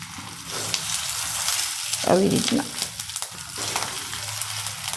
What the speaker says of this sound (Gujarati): તલ હોય ને એટલે ફૂટે બધા